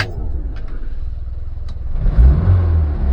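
A warm classic Mini engine turns over and catches, settling into a low, steady idle before a deeper rumble swells as it is revved, close and fairly loud with no talking.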